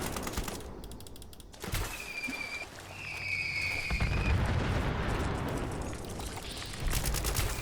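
Nuka Launcher explosions in the video game Fallout 76, a series of heavy booming blasts and rumbling bursts with rapid crackling fire, loud and dense throughout, no talk.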